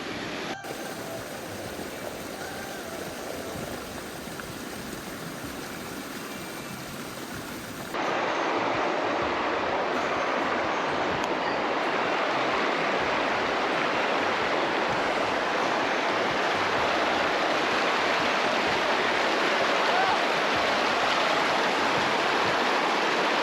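The Zigzag River rushes past a backpacking trail crossing, a loud, steady broadband roar of flowing water that grows fuller and closer partway through and continues without a break.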